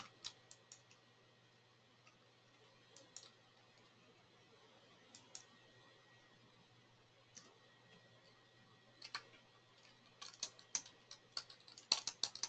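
Sparse keystrokes on a computer keyboard while a property address and zip code are entered into a map search, faint and scattered at first, then coming in quicker, busier bursts toward the end, with no talking.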